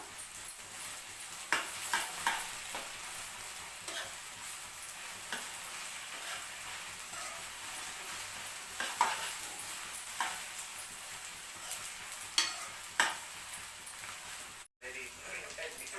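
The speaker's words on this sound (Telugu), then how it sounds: "ఇది ఫ్రై కావాలి కాసేపు. దీన్ని మధ్య మధ్యలో కలుపుతూ ఉండాలి, అడగంటకుండా." Okra fries gently in a pan with garlic, a soft continuous sizzle broken by repeated scraping stirs of a utensil, close but fairly quiet, with a brief dropout near the end.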